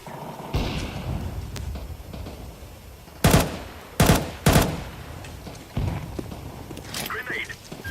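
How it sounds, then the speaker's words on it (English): In a live-streamed video game, a flashbang grenade goes off among a few sharp bursts and blasts, loud isolated bangs over low background game noise. "I'm throwing a flashbang."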